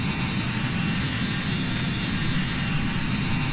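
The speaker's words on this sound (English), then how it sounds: "it sounds like I'm only getting engine noise in my right headphone" Steady, loud jet engine roar from an Embraer E-190 airliner in Microsoft Flight Simulator 2020, a constant broadband rumble and whine with no change in level and no voices.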